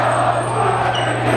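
A dense backstage crowd roars and cheers at a concert, a loud sustained wall of voices with a steady low hum underneath.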